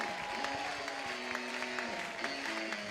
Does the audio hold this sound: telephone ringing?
no